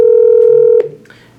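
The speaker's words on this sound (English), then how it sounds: "it'll start ringing their phone directly" An ESI 30 office phone places a speed-dial call to a coworker's line: a steady electronic tone holds for under a second, then cuts off abruptly into quiet room noise.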